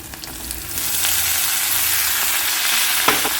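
Spine gourd pieces hit hot oil with turmeric in a pan for a curry and are stirred. Clattering scrapes and spoon knocks open the sound, then a loud, steady sizzle builds, with another scrape near the end and no talk.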